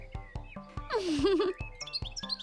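A small bird chirps close by in quick, bright repeated tweets with a short warbling trill in the middle, heard alone without talk.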